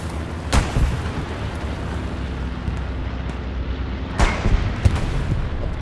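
A bombing run in the World War II shooter Hell Let Loose, with two heavy booming explosions a few seconds apart, each rumbling out over a constant low battlefield drone.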